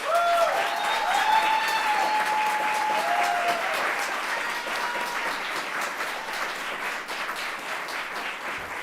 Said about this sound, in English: I think we need to give a round of applause to Laura Forbes.